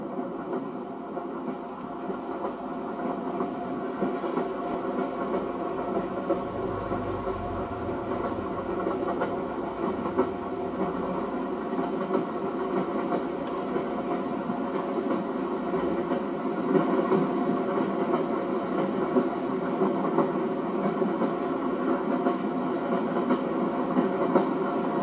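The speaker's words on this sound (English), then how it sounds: "join Penrith Castle 7023 from Kingham to Oxford with carriage views along the Cotswold line." Riding behind GWR Castle class steam locomotive 7023 Penrith Castle between Kingham and Oxford on the Cotswold line, a continuous rumble of the carriage fills the air, with rail clickety-clack and steady running noise heard from inside the train.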